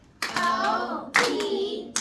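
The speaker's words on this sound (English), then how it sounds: "Let's clap it out." A first-grade class claps out the syllables of the word "open": two short bursts of unison children's clapping, close and fairly loud, with the start of a third at the end.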